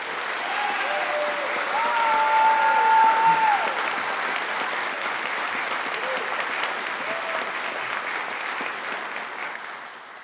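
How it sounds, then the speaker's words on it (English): Audience applause at a law enforcement academy graduation ceremony at Weatherford College: a broad, sustained wash of clapping from a large crowd, with a few faint voices and whistles rising through it early on. "Can we give them a round of applause,"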